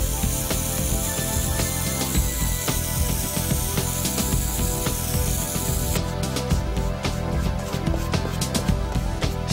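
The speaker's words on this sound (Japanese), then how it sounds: "補色と防水効果を兼ねたスウェード用のカラースプレーで毛足を保護します。" Suede color spray that doubles as waterproofing, misted onto suede shoes to protect the nap: a steady, continuous aerosol hiss close by, running for the full stretch with faint rattly mechanical ticks and no talking.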